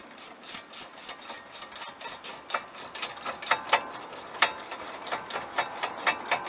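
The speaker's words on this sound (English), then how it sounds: "ratchet" A hand ratchet turns to back out the brake caliper bolts on a 2017 Nissan X-Trail during a front disc and pad job, giving a steady run of quick metallic clicks up close, with no talking.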